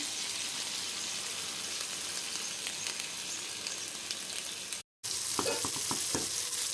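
Prawns fry in a pan, giving off a steady hissing sizzle, with a brief cut and then a few scraping stirs of the pieces against the pan.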